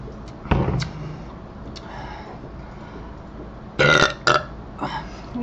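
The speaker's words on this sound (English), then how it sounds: "So I apologize for the lack of oomph in my burp" A man's burps after salad and beer, a short loud one followed later by a stronger double burp and a softer trailing one, close to the mic in a quiet room.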